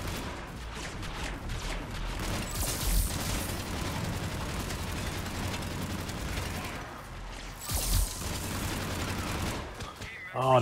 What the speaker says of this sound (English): Oh, those damn turrets.